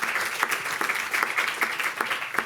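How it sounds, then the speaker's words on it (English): A room of conference attendees applauds panel authors and a discussant at an education policy event, loud, close and sustained clapping with individual sharp claps standing out throughout. "Can I get a round of applause for our authors and discussant?"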